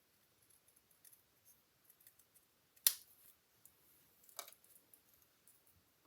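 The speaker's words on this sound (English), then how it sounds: "This side is just going to be cut right along here." Scissors cut paper in a quiet room for a craft project, giving one sharp close snip followed by a few softer snips and faint rustles.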